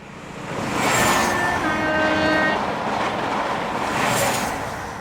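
A train rumbles steadily through the Channel Tunnel between England and France, carrying cars, with a continuous loud roar, high squeals and brief tonal whines rising and fading.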